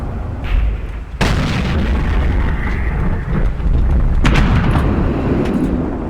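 A tank cannon shot in World of Tanks lands with a sharp boom at about 1.2 seconds. A steady engine rumble follows, and another burst comes near 4.3 seconds.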